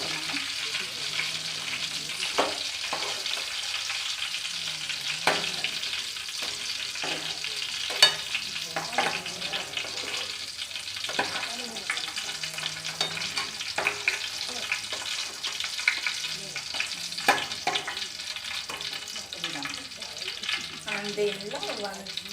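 Brinjal fries in oil in a pan, a constant sizzle punctuated by repeated spatula scrapes and stirs at irregular intervals, close up and sustained, with occasional faint talk.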